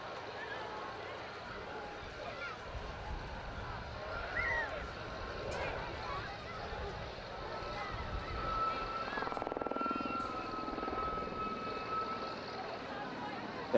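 Gazelle helicopters at the Wales Airshow, a distant rumbling rotor and engine drone that slowly swells and fades beneath steady talk from a commentator, with crowd and wind noise around it.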